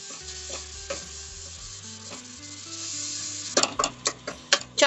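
Chopped tomato stir-fried with spices in a pan for rajma: a soft sizzle runs under scraping stirs, then a quick series of sharp clinks and scrapes from the spoon on the pan.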